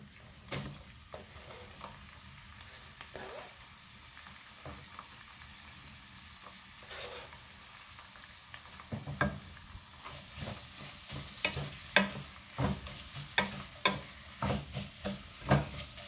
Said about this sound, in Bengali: আমার শুটকিটা ভাজা হয়ে আসছে।